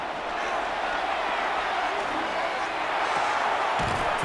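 Steady stadium crowd roar from the video game Madden NFL 26, a broad continuous wash of noise filling the whole clip at close, even loudness with no clear voices.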